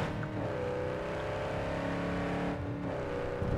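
A car engine in the Cyberpunk 2077 video game, with an off-road Coyote or Javelina driven hard: a steady loud motor drone with rising revs and pitch sweeps, easing off briefly near the end, no talk over it.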